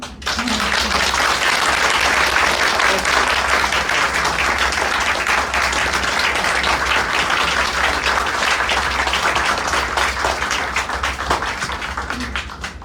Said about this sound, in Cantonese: 咁所以我哋可能再次俾一啲掌聲